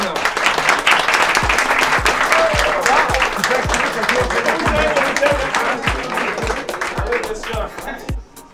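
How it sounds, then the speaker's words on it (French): Sustained, loud applause from a crowd at a French-speaking fan day at Europa-Park, dense clapping that holds steady throughout and only tapers off at the very end. "Et on va les applaudir parce qu'ils sont bons."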